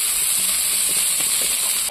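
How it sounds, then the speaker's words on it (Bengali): Onion goes into hot oil in a kadai and fries with a continuous, loud hissing sizzle, flecked with faint small crackles, heard up close without speech. "পেঁয়াজটা দেখো দিয়ে দিলাম।"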